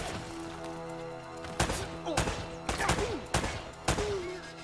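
Gunfire and explosions in the action video game Uncharted: Drake's Fortune Remastered, with five sharp, loud bursts spaced about half a second to a second apart over a steady game soundtrack, alongside whistling zips and swooping effects.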